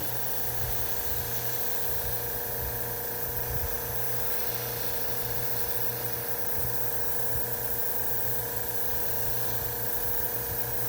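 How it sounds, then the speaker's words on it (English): An airbrush sprays paint onto a muskie crankbait, a soft continuous hiss with a faint steady hum of the compressor underneath, unbroken throughout. "My first time airbrushing in like a week"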